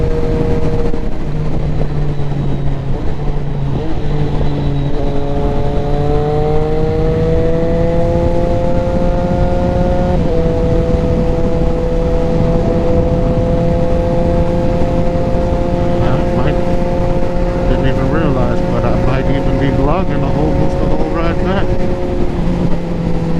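A Triumph Street Triple RS motorcycle rides along, its engine droning loudly and steadily with rising and falling pitch as it shifts, under heavy wind roar.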